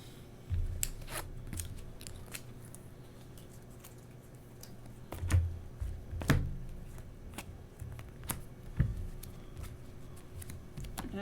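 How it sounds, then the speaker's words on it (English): A deck of game cards for the tabletop game Volfyirion is shuffled, giving a series of crisp snapping card riffles and soft taps spread over several seconds, close and moderately quiet. "I have to shuffle my deck for my 5th one here."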